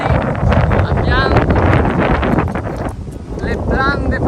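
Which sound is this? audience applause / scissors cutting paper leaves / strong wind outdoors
strong wind outdoors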